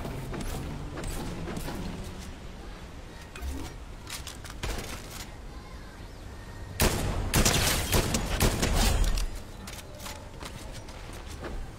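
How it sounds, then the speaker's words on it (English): Rapid DMR rifle gunfire in the Fortnite video game, a busy stretch of repeated sharp shots and clattering action, growing louder and denser partway through, with no talk. "DMR can be crazy, man, if you know how to shoot this weapon."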